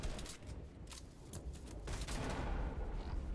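Tactical SMG fire in Fortnite during an FNCS Finals match, heard as rapid, dense crackling bursts that build slightly louder toward the end over busy game noise.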